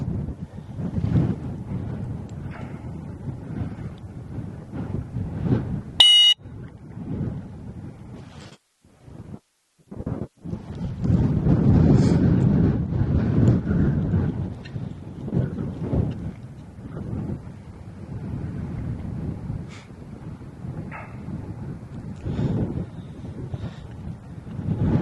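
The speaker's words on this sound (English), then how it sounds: "Strong wind blowing that way." Strong outdoor wind buffets the microphone in heavy rumbling gusts that rise and fall, with a couple of brief sharp knocks and short drops in between.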